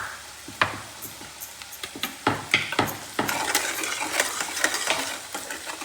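Salted onions fry in a pan as a spoon scrapes and stirs them in repeated clinking strokes over a soft sizzle, close up, with no one talking.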